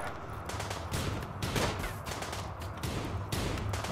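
Shotgun blasts in the video game RimWorld, a few sharp bursts scattered over steady low game background noise, at moderate loudness with no talk over them.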